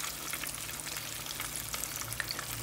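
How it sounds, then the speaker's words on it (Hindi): Chicken shallow frying in a pan of oil, a steady, close bed of hissing sizzle with small crackles and pops throughout, no talk. "हमने शैलो फ्राई करना है"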